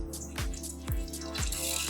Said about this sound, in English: it's going to run the purge. So you can see it's shooting a little bit of water out of here just to clear out the inside of the wand